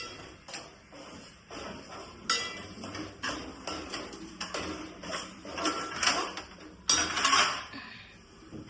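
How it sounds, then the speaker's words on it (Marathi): Metal pots, pans and lids knocking and clinking in a home kitchen during cooking, a run of scattered clanks with a louder clatter near the end, close by and with no talking. "भांड्याचं झाकण ठेव."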